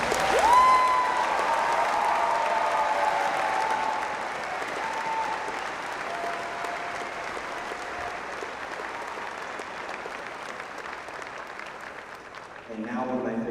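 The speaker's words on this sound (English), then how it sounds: "Please join me in giving our soon-to-be graduates a robust round of applause" A crowd at a high school commencement for the class of 2024 applauds the graduates, sustained clapping that swells then gradually thins, with a brief tone and some cheering early on.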